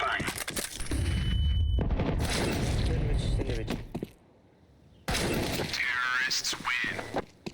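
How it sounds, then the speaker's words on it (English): A flashbang grenade goes off in the video game CS2 amid loud, crashing bursts and a thin high ringing tone, followed by a brief near-silence and then another harsh burst of noise. "Flashbang. Grenade out. Deploying flashbang."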